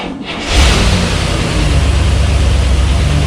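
A 1963 Cadillac Coupe DeVille V8 cranks briefly and fires up, settling into a loud, close, steady rumbling idle with no talking.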